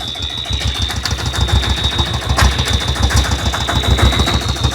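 An engine is revved with the accelerator, a rapid, evenly pulsing chug that swells slightly in loudness, close by with no one speaking over it.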